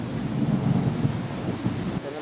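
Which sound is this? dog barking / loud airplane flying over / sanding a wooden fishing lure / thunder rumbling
thunder rumbling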